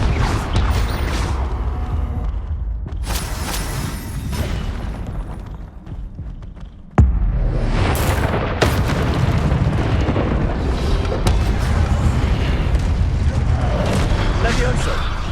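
Hogwarts Legacy gameplay with spell effects crackling and booming, a sudden loud blast at the midpoint followed by continued rumbling magical bursts, with a character's voice calling out over the noise.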